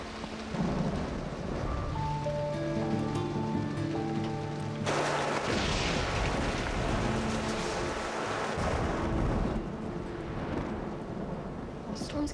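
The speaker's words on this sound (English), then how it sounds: "The storm's getting worse." Steady rain pours down with a low rumbling storm beneath it, while music-like tones and voices sit under the downpour.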